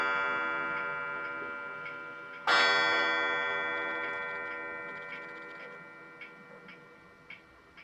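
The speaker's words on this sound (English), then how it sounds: "The clock is going to chime." A clock ticks softly, then a bright resonant chime strikes once and rings out in a long decaying tone while faint ticking continues underneath.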